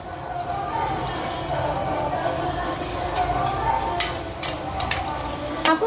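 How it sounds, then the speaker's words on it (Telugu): Onions and green chillies hit hot oil in a pot for drumstick mutton, giving a steady close sizzle with scattered scraping clicks of stirring, while a voice talks throughout. "నూనె వేడయ్యింది. ఉల్లిగడ్డలు వేసుకుందాం, పచ్చిమిరపకాయలు"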